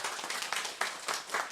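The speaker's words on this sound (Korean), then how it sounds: "우리 축하하는 박수를 한번 드릴까요?" A church congregation claps in celebration, a brief burst of many hands applauding together in a room, lively and fairly close, with no talk over it.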